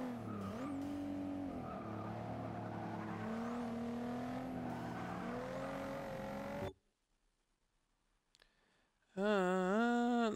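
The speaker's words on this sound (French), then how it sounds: "Je me suis fait doubler sur une nationale par une Macan et ça fait vraiment un bon bruit" Porsche Macan engine roaring in Forza 6, a loud, rough drone with shifting pitch that cuts to near silence for about two seconds, then returns as sharp rising revs.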